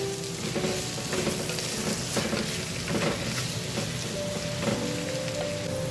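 Green chilli, crushed ginger and garlic sautéing in oil for a tomato curry, a dense, steady sizzle like light rain filling the whole clip at close range with faint utensil contact.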